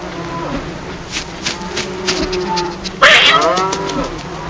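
Several cows moo in turn over a steady farmyard hum, one louder, closer low moo rising near the end, in a video game.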